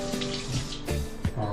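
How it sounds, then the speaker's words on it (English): A peeled boiled egg is rinsed under a kitchen sink tap. Running water splashes and gurgles close by, with brief changes in the flow as the egg is turned under the stream. "I'm going to rinse it under the sink"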